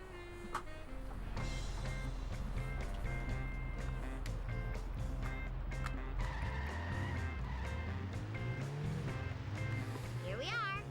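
The Malibu Stacy car drives through Springfield in The Simpsons Hit and Run, its steady engine hum running under game music and ongoing talk, with brief tire squeals toward the end.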